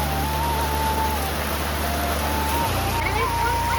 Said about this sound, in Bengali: ওহো, কি বৃষ্টি দিচ্ছে দেখো